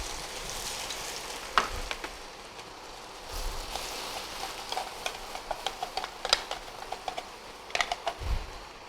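Ground spices with star anise and cinnamon dry-roasting in a pan for Thai five-spice braised pork leg, giving a soft steady crackle with scattered light scraping taps from stirring, close and fairly quiet, with no talk.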